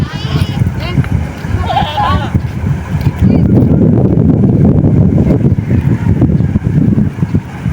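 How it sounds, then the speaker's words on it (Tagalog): A playful goat bleats a couple of times close by amid gusty wind noise, with people talking in the background. "Ayun umakyat yung kambing naglalaro."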